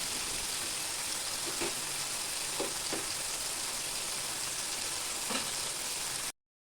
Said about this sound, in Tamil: இப்போ இதை ஒரு தோசை திருப்பியால் இந்த மாதிரி திருப்பி விட்டு திருப்பி விட்டு வேக விட்டுக்கலாம்